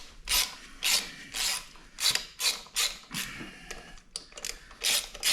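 Ratchet wrench working bolts on the clutch of a Suzuki King Quad 750 ATV during a drive belt change, a series of short, crisp clicking bursts with brief pauses between, close and alone.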